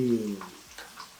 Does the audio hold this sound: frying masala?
yes